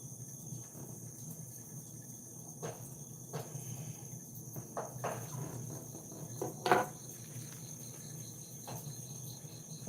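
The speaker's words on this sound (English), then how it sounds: "listen to those little motherfucking crickets" Tiny crickets chirp faintly in a steady background trill, with a few nearby clinks and knocks of small objects breaking in now and then.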